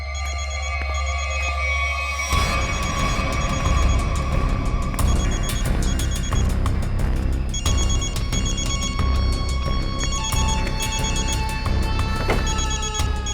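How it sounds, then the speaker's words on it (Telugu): A mobile phone rings nearby in repeated electronic ringtone bursts that carry on steadily through the whole stretch, loud and without speech. "ఇక్కడే రింగ్ అవుతోంది, అంటే మొబైల్ ఇక్కడే ఎక్కడో ఉంది"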